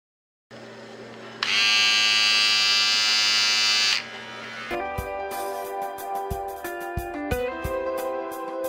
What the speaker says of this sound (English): this motor's rotary motion is converted into reciprocating motion to move blades